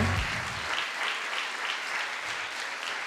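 An audience at a Limoges fashion show applauds steadily as designers and models are welcomed, a dense, even wash of clapping with no pauses.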